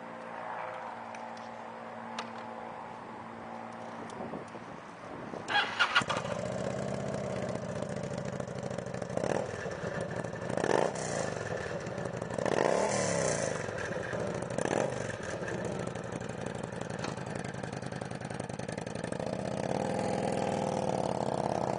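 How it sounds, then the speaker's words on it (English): A used 2006 Kawasaki Vulcan 900 V-twin middleweight cruiser cranking over and catching, then settling into a lumpy, throbbing idle with a few revs, heard close and fairly quiet. "We're going to fire it up for you so you can see how she sounds."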